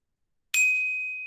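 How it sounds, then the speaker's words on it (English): A single bright bell sound effect strikes once after silence, then rings on with a clear, slowly fading tone. "A bell, a horn, and then the last one was a roar."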